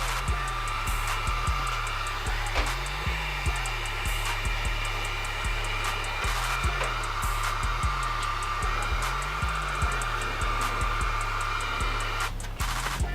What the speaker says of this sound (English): To remove all of this, all you need is a heat gun and some dental floss